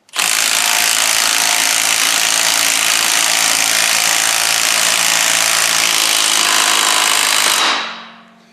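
A power tool torquing a crankshaft pulley runs at close range as one loud, steady, grinding whir for about seven and a half seconds, then cuts off abruptly into quiet.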